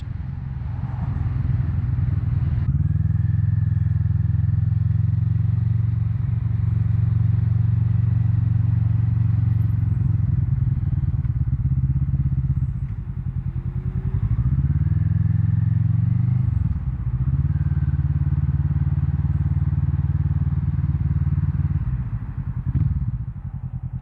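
Kawasaki Vulcan S motorcycle on a road ride, its steady low engine drone loud and close throughout, with brief dips and rises in revs as it slows and pulls away again.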